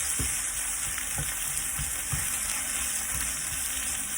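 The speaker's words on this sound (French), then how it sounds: "vous pouvez en profiter pour remuer la poêlée" Chorizo and zucchini sizzle steadily in a pan over medium heat, with a spoon stirring through them in soft irregular scrapes, loud and close with no talking.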